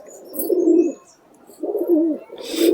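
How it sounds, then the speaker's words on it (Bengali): Close, low, throaty cooing comes from desi Murshidabad pigeons in a series of three rolling phrases separated by short quiet gaps, with a faint rustle near the end. "খুব সুন্দর লাগছে আমাদের পায়রা একের পর এক দেখতে"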